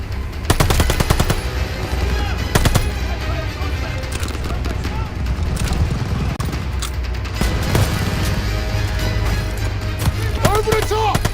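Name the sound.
machine gun fire in video game Call of Duty Vanguard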